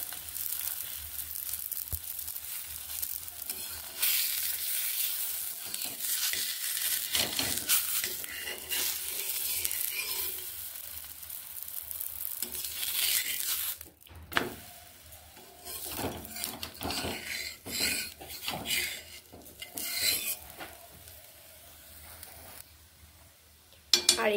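Sattu parathas fry in ghee on a tawa, a soft ongoing sizzle with intermittent scraping and handling noises, faint and close, no speech.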